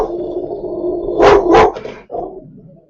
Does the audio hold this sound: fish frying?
no